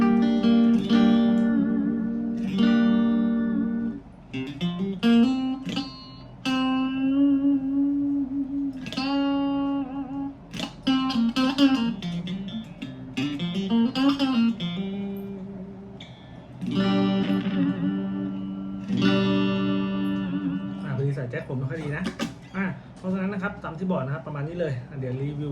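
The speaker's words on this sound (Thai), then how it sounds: "ให้ดูนะครับเป็นเสียงคลีนแล้วก็เสียงแตกนะครับผม" A Stratocaster-style electric guitar plays melodic phrases with bends and sustained notes, moving between clean and gritty distorted tones with some reverb.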